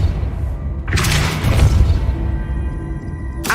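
A Depulso force spell cast in Hogwarts Legacy, one heavy booming thud with a crashing, scattering burst that rings and fades, followed by a second sharp impact right at the end.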